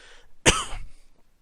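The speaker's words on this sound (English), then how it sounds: "Sorry about the cough." A single sharp cough close to the microphone, one short harsh burst that fades quickly into quiet room tone, with nothing else around it.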